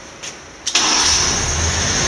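A car engine cranks and catches after a short quiet pause, triggered remotely from an iPhone through an On Switch Wi-Fi module, then settles into a steady, fairly close idle.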